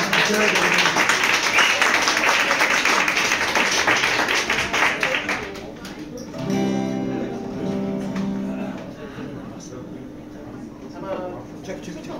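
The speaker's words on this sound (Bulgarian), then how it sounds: "специални аплодисменти за тях" Audience applause at a live concert in a small club, steady dense clapping for about five seconds that then drops off as a voice talks over the fading claps.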